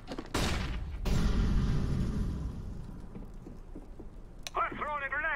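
A flashbang grenade going off in the tactical shooter CS:GO, a sharp burst followed by a loud blast that fades over a couple of seconds, with a voice briefly heard near the end.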